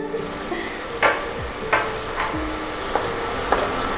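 Paneer and spinach paste are stirred in a pan for a spinach kalakand sweet, a faint sizzle under a handful of distinct spatula knocks and scrapes spaced about a second apart, nearby and wordless.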